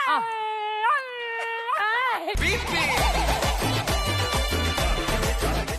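On a Telugu TV game show, a contestant imitates a dog calling to a faraway dog with long, rising and falling vocal howls, loud and near, then pounding music takes over.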